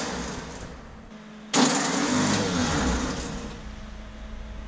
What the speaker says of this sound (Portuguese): eu vou ver se ela consegue fazer o Fusca pegar de primeira hoje